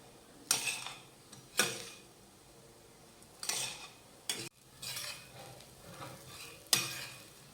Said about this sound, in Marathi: मंद आचेवर ह्याला छान परतून घेऊयात